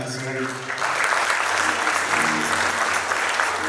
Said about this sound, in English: another round of applause for our fireside chat